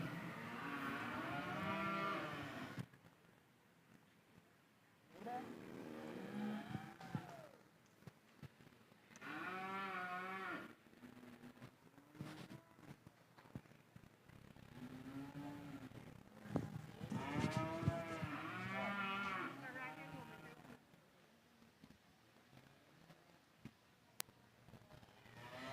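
Heifers at a junior breeding heifer show moo repeatedly in long, loud calls, several overlapping bellows rising and falling across the stretch with short quieter gaps between them.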